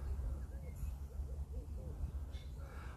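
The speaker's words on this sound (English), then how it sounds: "Look at the owl preparing for the night." An owl hooting at dusk along South Africa's Garden Route, a string of soft, faint, evenly repeated hoots over a steady low outdoor rumble.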